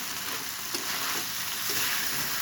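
Potato and bitter gourd curry fries in a pan with a steady, close sizzle and occasional soft stirring scrapes, no voices.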